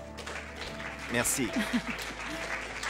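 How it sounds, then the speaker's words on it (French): Audience applause for performers at a staged show, a broad wash of clapping that runs steadily throughout while someone speaks over it and offers thanks. "un tonnerre d'applaudissements pour nos vedettes"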